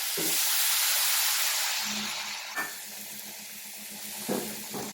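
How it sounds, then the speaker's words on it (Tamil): A loud hissing sizzle as tamarind water hits a hot pan of fried eggplant, slowly settling into a softer bubbling simmer with a few faint clinks. "புளி தண்ணி கொஞ்சமாக ஊற்றுறேன்."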